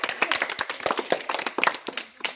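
Schoolchildren at a primary school clap in an uneven, scattered burst of quick individual claps, close and fairly loud.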